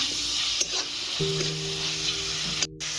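Food cooking on a stove hisses in a steady, close sizzle, with a faint low hum running underneath and a few small clinks.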